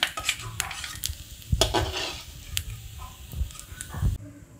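A utensil scrapes and clinks against a pan in quick irregular strokes, lifting fried coconut, while faint sizzling carries on underneath.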